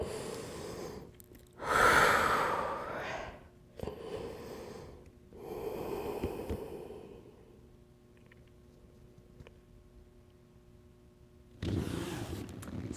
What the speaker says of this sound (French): On se fait 3 à 4 respirations.